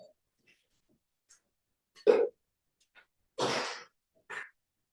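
One sharp, fairly close sneeze bursts out in a quiet room, with softer breaths and a small throat noise on either side of it.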